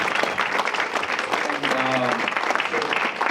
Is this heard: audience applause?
yes